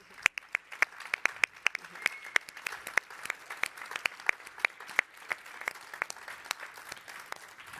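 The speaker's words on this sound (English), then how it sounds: "have a round of applause" Scattered applause from an audience at a women's recognition event, distinct individual claps in a loose, uneven rhythm, fairly quiet and distant.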